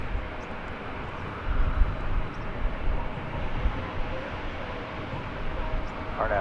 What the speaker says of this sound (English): American Flight 2028, a 737-800 off to San Antonio, Texas.